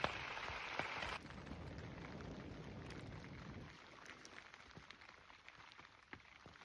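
Rain falling in a boreal forest, a dense steady hiss of drops on surfaces that softens after the first second, with scattered sharper drips close by and no voices.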